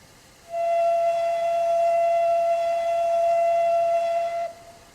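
A Midland 200 Class locomotive whistle in a train simulator game sounds as one loud, steady, sustained blast lasting about four seconds, with a slight echo as it cuts off.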